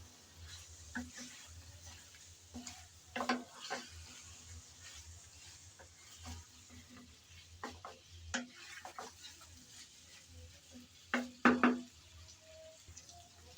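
A curry of new potatoes and peas is sautéed in a pan. Faint, scattered spoon scrapes and clinks sound over a soft, low sizzle, with a few louder knocks toward the end.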